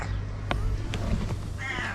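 A domestic cat with an oddly pitched meow gives a few short calls at close range, under steady background hum and faint noise.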